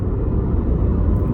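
Honda Prologue EX electric SUV accelerating hard, a steady low rumble of road and drivetrain noise that holds loud and even throughout, with no talking.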